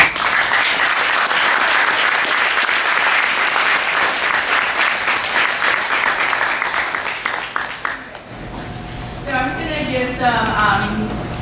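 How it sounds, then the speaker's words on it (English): Sustained audience applause fills a conference hall at the close of a Q&A session on Fukushima three years later, dense and loud for about eight seconds before fading as a speaker begins talking. "Let's do another round of applause for our"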